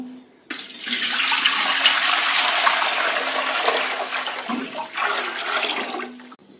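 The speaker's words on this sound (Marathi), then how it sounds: "तर आता ह्याच्यामध्ये आपण ओतून घेऊया पाणी." Water poured from a pot into a cooking vessel for wheat kurdai, a steady, close splashing gush that lasts several seconds, briefly dips, then resumes before stopping.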